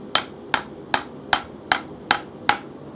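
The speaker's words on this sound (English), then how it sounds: "I'm going to do that by putting over the edge of the anvil and just hitting straight over the edge" Steel armour plate hammered over the edge of an anvil, seven sharp, evenly spaced metallic blows in a steady rhythm, close and clear with no talking.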